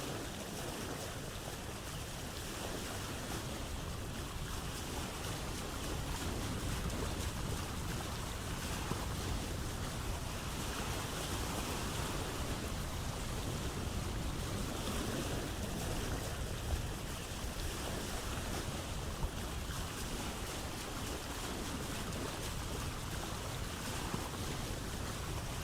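A sailboat moving across open water in the survival game Vintage Story, a steady wash of waves and wind around the hull, continuous and even throughout.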